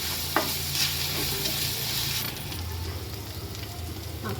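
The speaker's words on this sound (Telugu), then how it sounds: "ఈ అల్లం వెల్లుల్లి పేస్ట్ పచ్చివాసన పోయేదాకా వేగాలి" Ginger garlic paste fries and is stirred in a pan for a prawn biryani, a loud close sizzle with scraping stir strokes that eases slightly halfway through.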